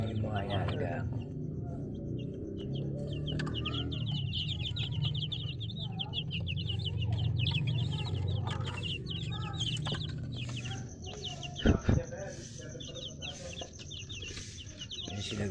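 Two-week-old Rhode Island Red chicks peep in a dense, continuous high-pitched chorus with a low background hum, a few sharp knocks near the end, and a voice talking faintly underneath.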